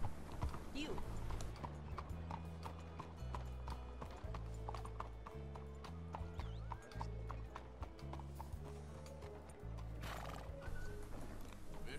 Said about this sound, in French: Ah, regardez-moi ce cheval.